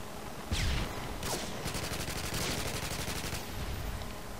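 Automatic gunfire in the video game Modern Warfare 2, rapid rattling bursts over a constant dense background of game noise, with a sharper shot near the start and a quick regular volley in the middle.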